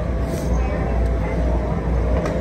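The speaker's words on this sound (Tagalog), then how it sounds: "Ayun na yung train natin, be." A train pulls into a station, a steady low rumble and rail noise holding throughout with faint voices nearby.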